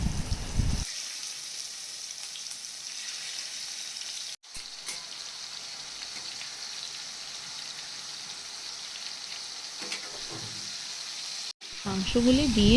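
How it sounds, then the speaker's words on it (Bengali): Marinated chicken frying in hot oil in a wok crackles with a steady, even sizzle for several seconds, briefly cut off twice, while a low voice comes faintly toward the end. "কড়াইয়ে তেল দিয়ে তেলটি গরম হয়ে গেলে তার মধ্যে ম্যারিনেট করা মাংসগুলি দিয়ে দেবো"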